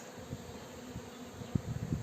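Honey bees hum softly around beehive frames at an apiary being readied for the linden honey flow, a steady low drone with a few closer buzzes passing near the end.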